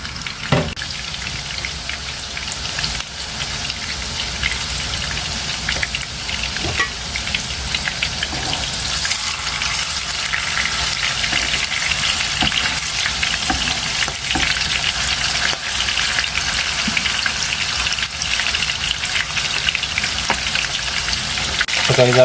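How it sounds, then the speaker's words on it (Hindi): Chicken seekh kebabs and a tikki fry in hot oil, giving a steady, dense sizzle with crackling spatters that carries on unbroken throughout, with no talk over it. "ये सीख कबाब भी हम इसमें फ्राई करेंगे और टिक्की भी बना के इसमें फ्राई करते हैं"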